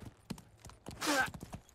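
Horse hooves trotting in The Sims 4, a run of soft, evenly spaced clip-clops with a brief louder rush in the middle, no talk over it.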